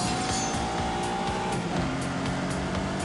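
A Lamborghini Countach with a 5.2-litre V12 accelerates hard, its engine note climbing steadily and shifting pitch mid-run, loud and close with rough mechanical texture and no talk over it.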